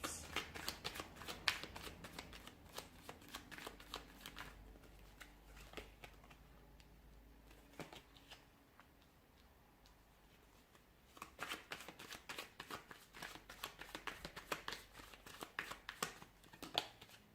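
Tarot cards being shuffled in repeated crisp riffling bursts, close and fairly quiet, with a calmer stretch in the middle before the rapid flicking picks up again.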